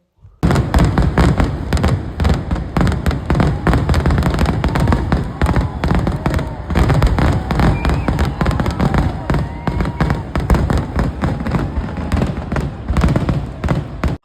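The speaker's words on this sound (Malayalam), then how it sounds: "വെടിക്കെട്ട് തുടങ്ങിയപ്പോൾ പിന്നെ ഒരു രക്ഷയുണ്ടായിരുന്നില്ല കേട്ടോ" Fireworks at the Thrissur Pooram festival burst in a dense, relentless barrage of loud cracks and booms that starts suddenly and continues without pause, with crowd voices mixed into the din.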